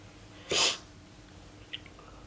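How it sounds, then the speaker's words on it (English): One short, sharp sniff close to the mic, followed by a faint second sniffle in a quiet room. "about the sniffles. Seems like I always have the sniffles."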